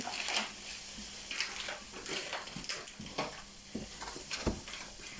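Bacon bits sizzle and crackle in a pan in their own rendered fat, a steady close-up fry with scattered pops and stirring scrapes, no voices.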